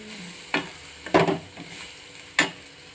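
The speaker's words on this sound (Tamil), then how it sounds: "அதையும் திரும்பி இது கூட சேர்த்து நல்லா வதக்கிக்கலாம்." Ridge gourd peel and coconut are sautéed in a pan over a soft, low sizzle, broken by three distinct stirring scrapes of a spatula against the pan, with no one speaking.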